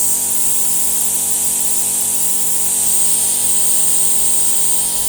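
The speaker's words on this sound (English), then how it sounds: "the compressor starts straight away" The air compressor of a mobile plasma cutter runs loud and close, a steady droning hum with a broad airy hiss on top, holding constant without pause.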